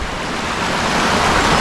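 The Guadalevín river rushes through the deep Tajo de Ronda gorge in Spain, a loud, constant roar of flowing water that swells slightly and never breaks.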